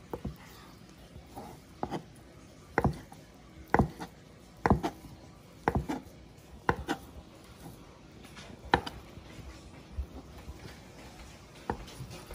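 A knife chops ingredients for sipo egg on a board in a home kitchen, with about a dozen sharp, separate strikes at an uneven pace, close by and fairly quiet, and no talking.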